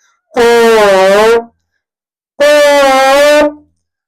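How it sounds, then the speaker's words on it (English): Two long brassy trombone notes, each held about a second with a slight waver, separated by a short silence, loud and close. "It has that jazz slide sound to it."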